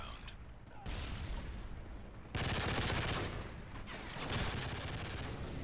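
Grenades explode in quick succession during a Call of Duty: Modern Warfare 3 multiplayer match, with heavy broadband booms and dense crackling blasts filling the mix, faint background voices beneath.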